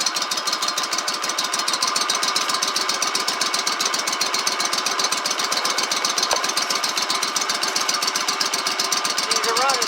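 A Stihl BR800 backpack blower idles in cold weather, its small two-stroke engine putting out a steady, rapid, loud putter that stays even throughout.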